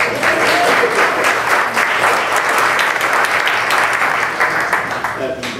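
Sustained applause from an audience at a city club candidate forum, dense and loud with many hands clapping together, steady for several seconds before tapering slightly.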